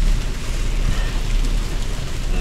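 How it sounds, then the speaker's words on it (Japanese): Heavy rain in Springfield, Missouri, a loud, dense, continuous hiss of rainfall with a deep low rumble underneath, steady throughout and without speech. "雨すごいから。"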